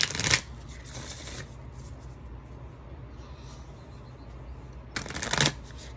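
Moonology Oracle cards being shuffled, two short riffling bursts near the start and another near the end, close and fairly quiet, with soft rustling between.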